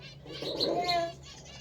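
Caged birds give a short, soft chirp and coo with a faint flutter, close but quiet, lasting only a moment against a low background hum.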